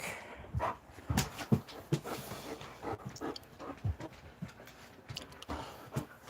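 Two dogs, Odie and Dakota, playing together with scattered soft thumps, pants and scuffling noises in irregular bursts, fairly quiet and close, with no voices.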